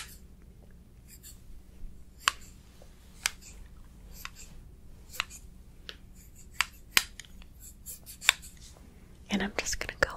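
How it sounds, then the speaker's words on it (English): Barber scissors snipping through hair at close range, sparse crisp clicks and short cutting strokes with quiet gaps between them, ending in a quick flurry of snips; no talking. "It's just a good good way to get more exact than the other scissors."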